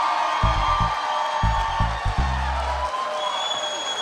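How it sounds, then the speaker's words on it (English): Audience applause and cheering for a storyteller at a live storytelling event, a moderate crowd clapping with whoops, punctuated by loud low thumps near the microphone. "a warm round of applause for Kim Gamez"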